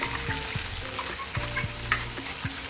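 Gravy added to frying masala for a jackfruit curry sizzles steadily in the pan, with scraping stirs repeating every fraction of a second, close and loud.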